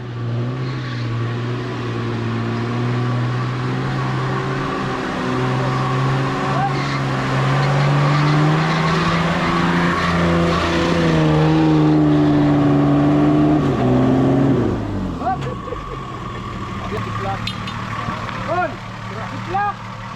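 A 4x4 off-road vehicle's engine revs and strains on a trail, a steady loud drone that climbs in pitch and then drops off, with people talking and calling out over it.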